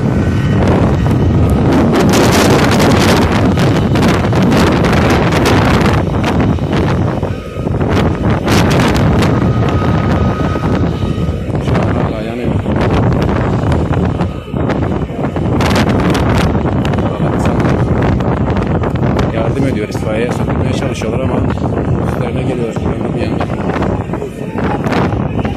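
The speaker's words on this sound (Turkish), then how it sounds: "Rüzgar var." Strong wind sweeps across a large wildfire site in the Akkum neighbourhood of Narlıkuyu, Silifke, roaring and buffeting the microphone loudly and without pause for the whole stretch.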